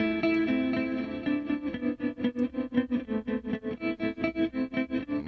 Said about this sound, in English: let's check out the tremolo.